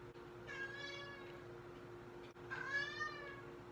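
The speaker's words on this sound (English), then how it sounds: "hopefully Leela isn't going to meow too much in the process" A pet cat meows twice indoors, two drawn-out, wavering calls separated by a short pause, fairly close and clear over a steady low hum.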